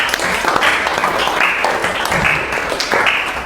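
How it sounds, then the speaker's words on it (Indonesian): A classroom audience claps steadily for student groups who have just presented their work, a dense, continuous patter of many hands close by that holds at an even level throughout. "Mari kita berikan aplaus sekali lagi"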